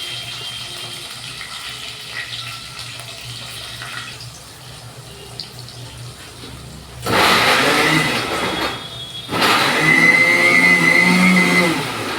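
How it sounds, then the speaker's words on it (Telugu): A kitchen mixer grinder blends onion, curry leaf and green chilli into gravy for gongura chicken, bursting on loud in two close, steady whirring runs after a quieter stretch of background noise. "అందుకని నేను మిక్సీ పడతాను"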